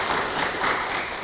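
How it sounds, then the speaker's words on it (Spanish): Congregation at a Sunday Easter-season Mass breaking into dense, steady applause that fills the church for about a second. "Un aplauso también para Roberto."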